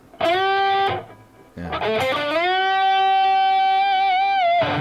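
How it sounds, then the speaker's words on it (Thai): Distorted electric guitar notes bend upward a half step and sustain, one short phrase followed by a longer held, slightly wavering bent note. "ส่วนตัวนี้เนี่ย ดันได้เสียงครึ่งนะครับ"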